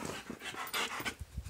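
A dog panting and sniffing at new Star Wars toys, close by, with quick breathy bursts and short snuffles in an uneven rhythm.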